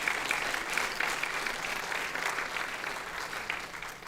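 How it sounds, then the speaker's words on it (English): Audience applauding Kate Summerfield at a community conversation event, a dense, even wash of clapping from a large crowd that holds steady and tapers slightly at the end. "Please give them a big round of applause tonight."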